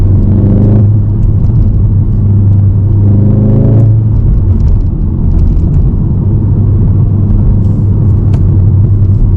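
A VW Golf R Mk7.5 driving at slow speed, its engine and exhaust a loud, close, continuous rumble with rising revs in the first few seconds that then settle into a steady drone.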